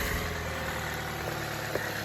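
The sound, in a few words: car engine idling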